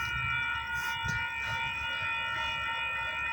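A freight train rumbles nearby with steady, sustained tonal whines over a low drone, and no voices.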